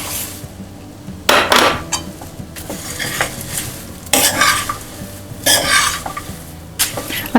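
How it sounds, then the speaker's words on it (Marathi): Puffed rice (murmure) is stirred in a pan while making chivda, giving a steady scraping and rustling with several louder clattering sweeps of the spoon against the pan, close and with no talk. "आता मी याच्यात मुरमुरे घालते."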